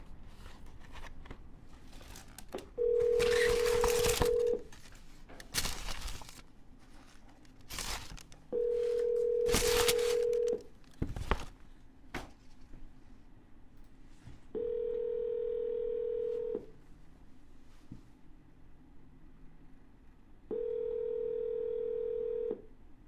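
Dialing and ringback tones repeat on a phone during cold calls, with a handful of separate tone bursts in an even pattern, quick button clicks between them, and faint rustling and handling noise.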